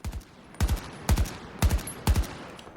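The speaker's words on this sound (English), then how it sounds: "this is able to take fully automatic fire, 1-round select fire," AK-12 rifle firing in Battlefield 2042, five short bursts of two or three sharp shots each, spaced about half a second apart, loud and close with no talk.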